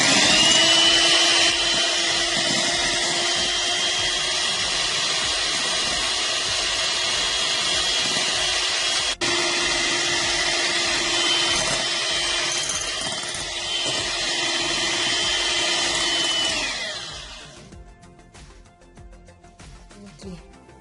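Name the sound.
electric mixer beating eggs and sugar for sponge cake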